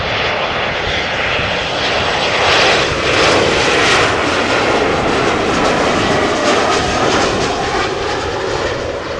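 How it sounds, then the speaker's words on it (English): A KLM Embraer 190 jet airliner arrives at Amsterdam Schiphol from Bergen, its engines producing a loud, continuous roar with a rushing whine that stays close and steady for nine seconds. "this is an Embraer 190 from KLM, flight 1186, arriving from Bergen"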